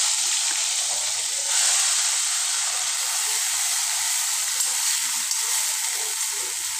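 Oil heating in a pan for a river tilapia curry, giving a loud, dense, unbroken sizzling hiss that holds steady from start to finish.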